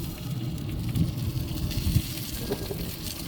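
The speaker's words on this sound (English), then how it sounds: "Here's a little sizzle going on." Food sizzles while cooking in a barbecue setup, a steady crackling hiss under low rumbling background noise, continuous and moderately loud with no talk.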